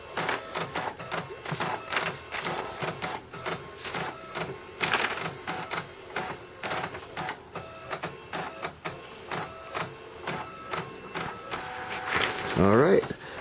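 Canon BJC-85 portable black-and-white printer running a test page: steady rhythmic whirring and clicking as the print head passes back and forth, close and clear, with a voice heard now and then.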